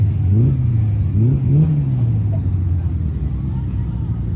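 A sport mod race car engine at Midway Speedway, apparently running rough, revs in rising and falling surges over a low rumble, heard close and loud before settling into a steadier drone.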